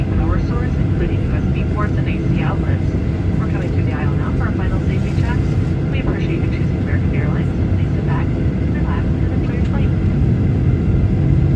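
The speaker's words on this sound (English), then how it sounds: "Takeoff." A passenger jet takes off from DC, its engines roaring steadily as a loud, continuous rush heard from inside the cabin, with voices speaking over the noise.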